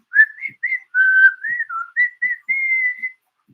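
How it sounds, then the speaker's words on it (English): A person whistles a bright, lilting tune out loud, a string of short clear notes and a few held tones, close and alone with no other sound behind it. "Or whistle out loud with a choir of canaries."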